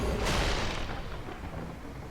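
A Lightning Helix spell effect in the MTG Arena card game lets off a loud crackling, thunder-like blast that swells early and rumbles down over two seconds, with no talk over it.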